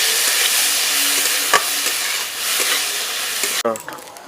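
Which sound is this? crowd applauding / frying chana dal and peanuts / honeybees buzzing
frying chana dal and peanuts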